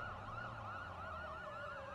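Ambulance siren in a police roleplay video game, a steady wailing up-and-down tone repeating rapidly over a low engine hum, faint and alone.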